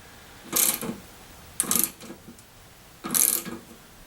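Three separate ratcheting bursts from a 17mm socket ratchet slowly loosening a bolt on an aluminum mower part, each a short close clicking run with pauses between, in a quiet room.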